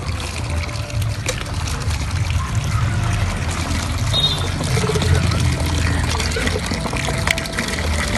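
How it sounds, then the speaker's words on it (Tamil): Water pours steadily from a hand tube well in Sri Lanka, a continuous splashing gush with low rumbling body that runs unbroken throughout. "மசாலான்னு தண்ணி வருது."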